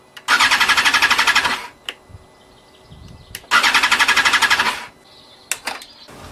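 A 2020 BMW S1000RR motorcycle cranks without firing in two long, loud bursts of rapid rhythmic starter churning, each lasting over a second, separated by a pause with small clicks, and the engine never catches.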